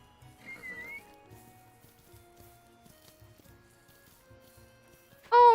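Horses and a foal in the ranch video game The Ranch of Rivershine make soft, scattered low thuds and faint calls, then one loud, close whinny bursts out at the end.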